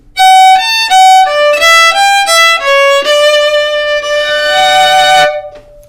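Fiddle playing the ending lick of Soldier's Joy, a quick run of bright bowed notes that descends and settles onto a long held final note, loud and close, alone.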